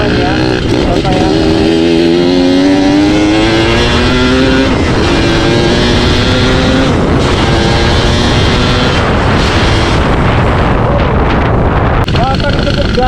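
A Yamaha motorcycle fitted with a big carburetor revs and pulls hard, the engine note rising and falling over strong wind buffeting on the microphone, loud and close throughout.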